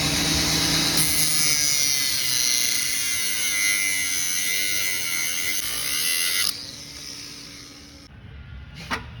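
A power tool cuts off a bolt stud on a Peterbilt 379 air ride suspension, a loud, steady high-pitched buzzing grind running for several seconds before abruptly dropping off, followed by a short quiet tail with a faint clink.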